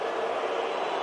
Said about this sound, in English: You can hear the boos in the background.